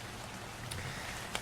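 Steady rain in the indie video game Abby's Song makes a constant, moderately loud broadband hiss, with two brief sharp drop-like ticks standing out near the middle and end, and no voices.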